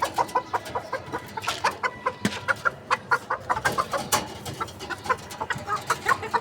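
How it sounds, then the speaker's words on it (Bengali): Chickens cluck close by in a rapid, continuous run of short, overlapping calls, a busy flock chattering on a sunny morning with no talk over it. "মুরগি,"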